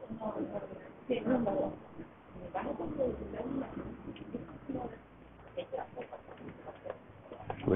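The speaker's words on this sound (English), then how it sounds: "Pigeons are still waiting." Pigeons coo softly in the background at a Tenerife street café area in Camison, their low calls partly under nearby talking and general outdoor ambience.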